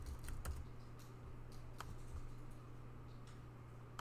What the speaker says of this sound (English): So we can still type in Alice